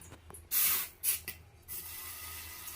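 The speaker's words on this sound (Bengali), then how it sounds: "হাতের সাহায্যে জলটা চারিদিকে দিয়ে দিতে হবে কড়ায়" Water is sprinkled by hand into a hot pan while making rice-flour chitoi pitha. A few sharp bursts of hissing sizzle are close and loud, then a faint steady sizzle continues.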